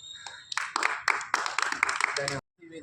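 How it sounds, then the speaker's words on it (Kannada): Hand clapping in quick, uneven bursts for about two seconds, close and fairly loud, ending abruptly, at a home rooftop flag-hoisting ceremony; a voice is faintly present around it. "ಒಂದು ಪುಷ್ಪಾಂಜಲಿ ಮತ್ತು ಒಂದು ಚಪ್ಪಾಳೆ ಮೂಲಕ ಪ್ರೋತ್ಸಾಹಿಸುತ್ತಿದ್ದೇವೆ"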